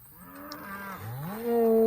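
Angus cows on a farm during fall calving season, a long low moo that bends in pitch and swells louder toward the end, close by and clear over a quiet background.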